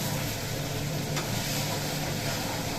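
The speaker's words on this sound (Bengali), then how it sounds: "এবার মশলাটাকে আমি কষিয়ে নিচ্ছি।" Spice paste with chopped tomato frying in a pan, a steady, dense sizzle that holds at an even level throughout, close and continuous with no talking.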